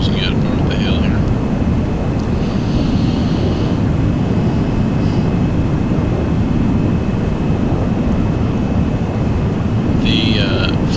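Milviz F-100 Super Sabre jet in a flight simulator game, afterburners lit, giving a loud, steady, broadband engine roar that holds throughout with occasional higher chirps above it.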